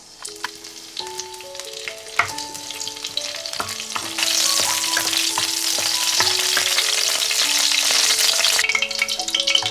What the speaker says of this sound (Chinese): 咱下面开始炒菜，先炸点花椒